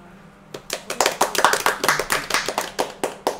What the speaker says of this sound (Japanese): ハルルさんだけなんか拍手が遅かったんで